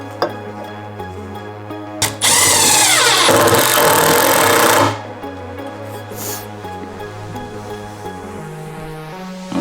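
A power drill whirs loudly in one sustained burst of about three seconds while driving screws to mount brackets on the legs of a simple custom desk, with quieter workshop noise before and after.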